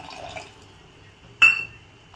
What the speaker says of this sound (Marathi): आणि आता मी याच्यामध्ये थोडंसं पाणी ॲड करणार